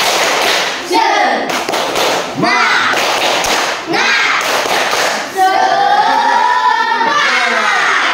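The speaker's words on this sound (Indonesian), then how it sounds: "Tepuk semangat." A group of people clapping a rhythmic spirit clap in a classroom-style ice-breaking session, several loud bursts of claps in quick sequence with voices in between.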